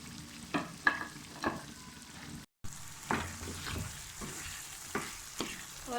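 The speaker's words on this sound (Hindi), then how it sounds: "यहाँ आलूओं की आपने अच्छी से भुनाई करनी है" Three potatoes frying in a pan over a high flame, with a low sizzle under repeated clattering stirs and scrapes of a spoon at irregular intervals, close by, one brief dropout, no talking.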